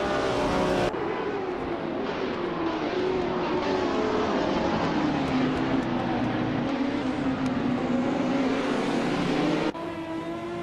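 Race cars launching from the starting line in a racing video game, a classic 1970 Ferrari 512 among them: a loud, continuous roar of engines rising and revving together, steady for the whole stretch.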